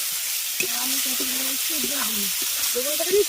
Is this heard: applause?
no